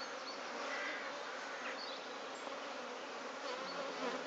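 Honeybees hum in a steady, dense drone throughout an open beehive inspection, faint but continuous, with no voices.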